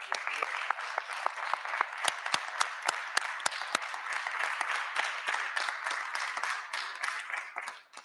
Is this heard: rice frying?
no